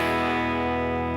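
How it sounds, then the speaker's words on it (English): A clean electric guitar with no effects rings out in one sustained chord that holds steady and fairly loud, decaying only slightly, with no talking. "the sound of the guitar without any effect"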